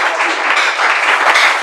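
A church congregation applauding, steady dense clapping from many hands filling the room, loud and continuous with no pauses.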